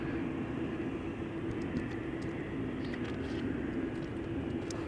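A steady, distant jet roar from a heavy airliner taxiing toward the runway at Amsterdam Schiphol, a constant engine drone with no distinct peaks and no voices.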